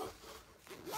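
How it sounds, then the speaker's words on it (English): A zipper on a Vera Bradley Disneyland bag is drawn along in a few short, raspy pulls, close and fairly quiet. "Oh no, now I can't zip it back up."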